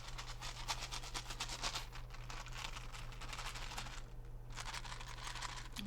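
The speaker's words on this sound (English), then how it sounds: "Those are D&D dice, ladies and gentlemen." D&D dice being handled and rolled, an ASMR-style run of fine, rapid clicks and clacks that continues for several seconds with a brief lull, over a steady low hum.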